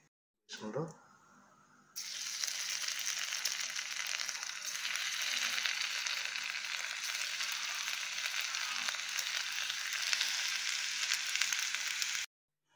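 Vada frying in hot home-kitchen oil in a small pan: a loud, steady sizzle that swells after a short quieter start and holds continuously, close up, with no talk.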